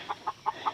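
A broody hen clucks in four short, evenly spaced calls, each a brief rounded note close by, with no talk over them.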